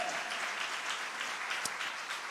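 A church congregation applauds together during a worship service, a steady, dense wash of clapping that holds evenly for a couple of seconds with no voices standing out.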